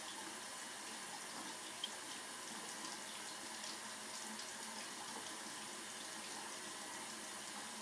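Water runs steadily from a tap for a parrot's feeding, a continuous even hiss and splash close by with no voices.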